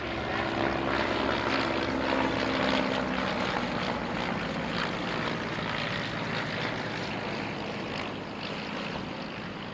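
Vintage propeller aeroplane flying at the Shuttleworth evening air display, a steady broadband engine drone with light buzzing, loud and fairly near throughout, slowly fading toward the end, no talk.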